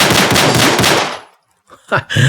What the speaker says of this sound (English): It's the M9A1. Oh, that sounds good.